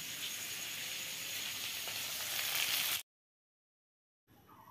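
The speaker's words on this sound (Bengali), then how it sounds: "তো এখানে মাংস আর ভাত রান্না হচ্ছে" Meat cooking with rice sizzles steadily in a pan, a dense hiss that holds for about three seconds, cuts to silence, then resumes more faintly.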